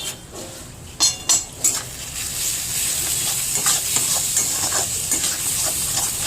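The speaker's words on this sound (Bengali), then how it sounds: "নিয়ে মশলাটাকে আবার কষিয়ে নেবো।" Spice paste for chicken kosha frying in oil in a pan, a continuous close sizzle with a few sharp clinks of a spoon against the pan early on and soft stirring scrapes throughout.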